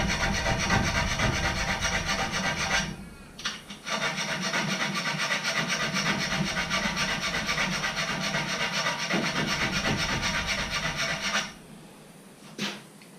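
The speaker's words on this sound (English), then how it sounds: "I have a smaller needle file just to clean this up a bit and go a little bit deeper" A small needle file rasps against wood on a GR 1SF guitar build in a continuous stream of close, gritty strokes. There are brief pauses around the fourth second and again near the end.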